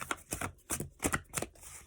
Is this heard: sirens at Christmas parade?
no